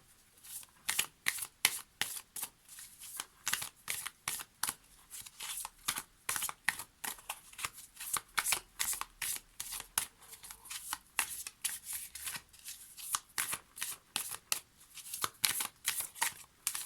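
Oracle cards shuffled by hand make a long run of quick, close riffling flutters, each burst crisp and papery, repeating steadily with brief gaps and no voices.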